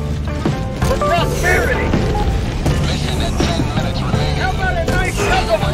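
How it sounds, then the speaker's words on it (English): Repeated thuds and booms from grenades going off in the co-op shooter Helldivers 2, set against a constant loud battle din with clanking mechanical noise, while a voice talks over it. "Keep whipping grenades out."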